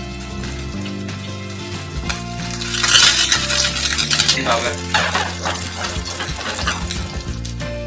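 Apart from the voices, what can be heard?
oyster pancake frying in a pan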